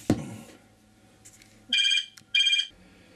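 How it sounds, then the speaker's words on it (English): A telephone rings indoors in two loud electronic ring bursts, near and alone, after a brief thud and quiet room tone. "I stopped there just to answer the phone"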